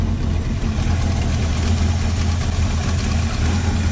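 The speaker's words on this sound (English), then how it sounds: "Sounds like it's got a little bit of an exhaust leak up here somewhere, probably on this side." A 1969 Ford Mustang V8 with aftermarket headers idles with a small exhaust leak, a loud, close, steady low rumble with an even throbbing pulse and a faint ticking hiss on top, no voices over it.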